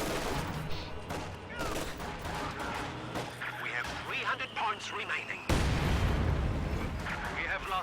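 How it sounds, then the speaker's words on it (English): Heavy mortar fire pounds away during a video game match, with repeated booming impacts and crackling debris layered over a dense battle din, and a fresh loud blast near the end. "And that heavy mortar is not helping."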